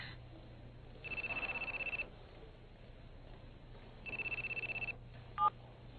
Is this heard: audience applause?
no